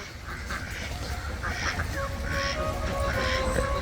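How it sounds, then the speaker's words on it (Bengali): Ducks on an enclosed duck farm in Bangladesh quack repeatedly, with overlapping calls from several birds at moderate distance over a steady background hum. "এই হাউসে কিন্তু মূলত হাঁসগুলো গোসল করে"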